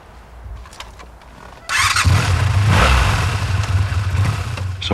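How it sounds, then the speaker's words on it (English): A motorcycle engine starts abruptly after a quiet stretch and settles into a loud, close, rumbling idle with some revving, no voices present. "this is a film about having fun on a motorcycle"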